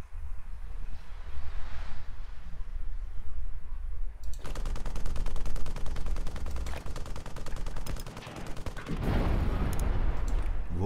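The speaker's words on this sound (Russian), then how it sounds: "Это выстрел." Gunfire in the video game Sniper Ghost Warrior 2, with dense rapid bursts of machine-gun fire rattling continuously and a heavier boom near the end, all loud and without speech.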